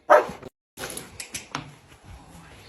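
A 14-week-old German Shepherd puppy gives a sharp, loud bark, then short yips and whimpering sounds close by, with brief pauses between.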